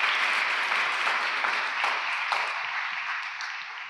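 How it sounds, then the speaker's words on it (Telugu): A crowd at an outdoor Christmas celebration with shepherds claps together in a dense, steady burst of applause that gradually thins and fades toward the end, with no talk. "మీరందరూ వాళ్ళని గట్టిగా ఒకసారి చప్పట్లతో అభినందించాలి."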